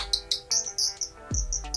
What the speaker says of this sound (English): That sounds just like a bird.